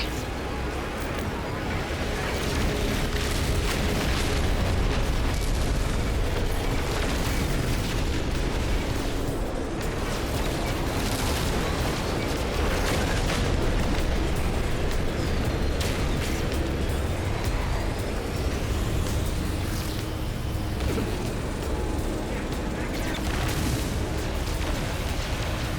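Missile explosions in the space game No Man's Sky, a continuous dense roar of booms and bursts over 26 seconds, loud and sustained without pause.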